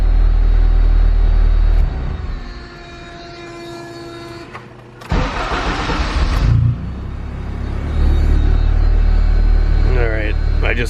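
A built turbocharged K24 engine in an EP3 Honda Civic runs loudly at close range, falters through a quieter dip, then surges back as it tries to rev, with people talking over it.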